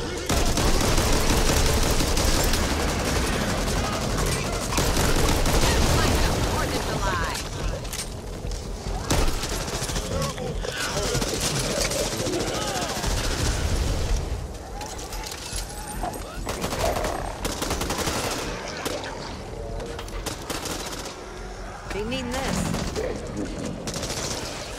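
Sustained gunfire in the co-op zombie shooter Back 4 Blood, dense and continuous with overlapping shots and booms from several weapons, loud and close, mixed with chaotic game noise and occasional voices.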